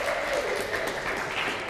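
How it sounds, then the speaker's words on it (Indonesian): Audience at a university law debate semi-final clap for the third speaker of the pro team, a steady, fairly quiet wash of many hands applauding for the whole short stretch, with no clear talking. "Kita berikan tepuk tangan untuk pembicara ketiga dari tim pro."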